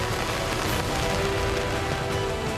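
Steady rain falls during palm sap harvesting in Sri Lanka, a dense, even hiss of drops on surfaces holding constant throughout with no voices.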